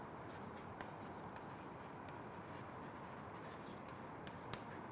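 Chalk or marker scratching across a board in a lecture hall during a math lecture, a steady soft scraping with faint taps, fairly quiet and continuous with no voice over it.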